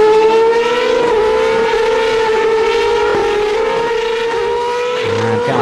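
SuperLeague Formula race cars at Donington Park scream past with loud, sustained high-revving engine notes and shifting pitch as they come down the hill, one car closely following another.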